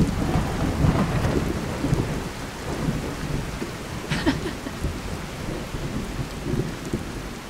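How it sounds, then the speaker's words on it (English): Rolling thunder in the Skyrim SE wilderness near a mountain, a low continuous rumble with a brief sharper crack midway, carrying on steadily under rain-like noise with no talking. "Did you cause that little bit of thunder just now?"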